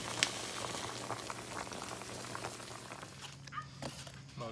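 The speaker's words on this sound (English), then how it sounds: "It's not actually cooking them, it's just steaming them." Water boils hard in the bottom of a pot, steaming corn tamalitas set on corn cobs. A dense, continuous bubbling roil is heard up close, with a few faint knocks and movements around it.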